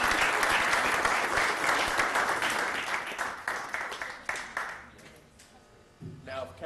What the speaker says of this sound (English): a round of applause, and thank you.